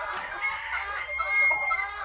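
A rooster on a home poultry farm gives a brief crowing, clucking call, close and moderately loud against a low background rumble.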